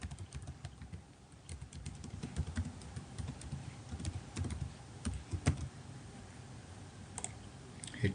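A password typed on a computer keyboard, a soft close run of irregular key clicks and taps spread across several seconds, quiet with no speech.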